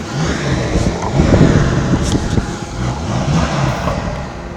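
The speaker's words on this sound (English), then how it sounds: "Under the bonnet, a 6-liter W12 engine" The 6-litre W12 engine of a Bentley Continental GTC Speed revs and rumbles close by, with a deep, steady roar that swells slightly mid-way.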